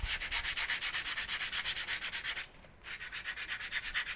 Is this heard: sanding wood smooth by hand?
yes